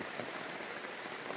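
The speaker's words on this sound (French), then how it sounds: "on est dans une ambiance de forêt, sous la pluie" Steady rain pours through a tropical forest in Sulawesi's Tangkoko park, a dense, even hiss of drops pattering on leaves and surfaces, constant and moderately quiet with no voices.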